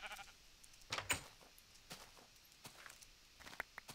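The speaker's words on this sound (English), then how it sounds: "Got my sheep. Hey, sheep, how's it going?" Sheep in a video game bleat a few times at close range, short wavering cries mixed with soft footstep-like taps.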